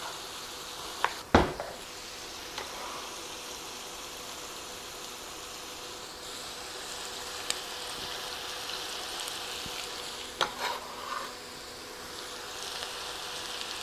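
Ground beef and onion sizzling as they brown in a pan, a soft steady crackle with a few sharp clacks of utensils against the pan.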